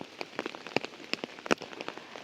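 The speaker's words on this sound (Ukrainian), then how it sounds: "Вибачте, за шум дощу" Rain patters close by, with scattered heavier drops tapping a surface in an irregular rhythm over a soft steady hiss.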